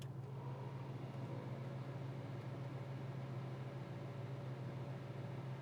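Air conditioning in a 1968 Chevrolet El Camino SS blows steadily, a constant broadband rush with a low hum running unbroken throughout, close and moderately quiet, with no talk.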